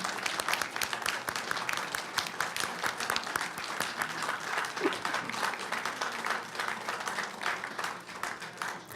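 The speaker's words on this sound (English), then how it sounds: "we can give you a round of applause" A school board reception crowd applauds the Savage family, steady dense clapping filling the room for the whole stretch at an even, sustained level.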